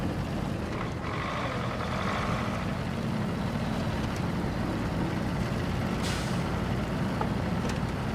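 A truck engine in a video game drones steadily and low throughout, with a sharp air-brake hiss bursting out near the end.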